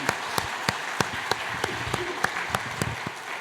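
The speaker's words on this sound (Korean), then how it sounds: "우리 서로 그런 마음으로 박수를 축복하겠습니다." Congregation clapping in rhythm at a New Year's Eve church service, steady unison claps roughly every third of a second over a dense bed of scattered applause, moderately loud and continuous throughout.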